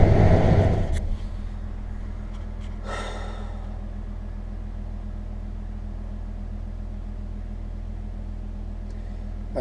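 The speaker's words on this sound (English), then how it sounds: "I'm cruising along in pitch darkness and I can't even see my feet. I just love driving at night." A truck cruises along a road at night, its engine a low steady rumble heard from inside the cab, with a brief breathy noise near the start and another soft hiss a moment later.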